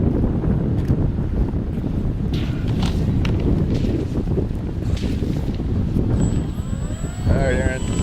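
Strong, steady wind buffets the microphone at an RC model airfield where a Parkzone P-47 is flown in heavy winds. The roar is loud and continuous, a small model aircraft whines near the end, and people talk over it.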